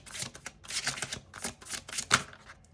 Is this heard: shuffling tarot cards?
yes